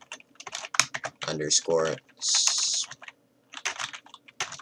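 Rapid clicking keystrokes on a computer keyboard while working in the Radiant map editor, coming in short bursts between stretches of someone talking.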